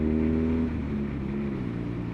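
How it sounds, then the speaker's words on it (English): BMW R nineT motorcycle exhaust gives a deep, throaty rasp that rises at first and then settles into a steady, rumbling idle, heard close up and alone. "nice rasp off the exhaust"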